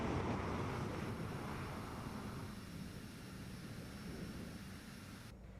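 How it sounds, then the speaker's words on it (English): Steady broadband roar of a Pilatus PC-24 business jet in flight in Microsoft Flight Simulator 2024, a constant loud engine and airflow wash that eases slightly midway and holds without breaks, no voices. "Flying the PC-24."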